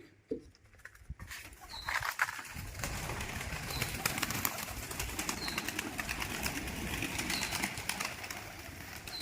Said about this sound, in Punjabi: ਹੁਣ ਆਪਾਂ ਕਬੂਤਰ ਛੱਡਦੇ ਨੇ ਇਹਨਾਂ ਨੂੰ ਦੇਖ ਕੇ ਆਉਣਗੇ